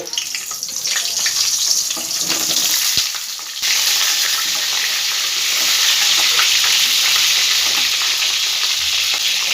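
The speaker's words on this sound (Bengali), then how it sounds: "এই পর্যায়ে আমি পেঁয়াজগুলো সব ভেজে নেব" Onions fry in a pan of hot white oil for an onion curry, a loud, continuous hiss and crackle that runs unbroken throughout, with a sharp clink partway through.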